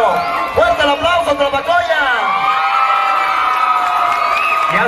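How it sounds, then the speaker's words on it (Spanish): Audience at a school regional dance competition awards ceremony in Tlapacoyan cheering and whooping, with loud crowd shouts and yells swelling and then sustaining as a continuous roar. "Fuerte el aplauso"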